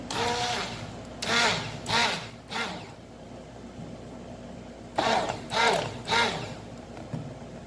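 A homogenizer blending a rejuvenating night cream, with a low steady hum behind two loud clusters of three short whirring surges each, close by and with no voices.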